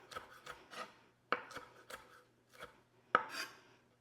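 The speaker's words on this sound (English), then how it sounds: "and then start dicing" A knife dicing vegetables on a cutting board for shrimp ceviche, with quiet, close, irregular cuts and a few sharper knocks spaced across the moment, no voices.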